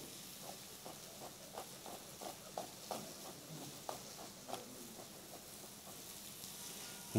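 Leeks added to fish frying in a pan, a soft steady sizzle broken by light, repeated stirring clicks and scrapes.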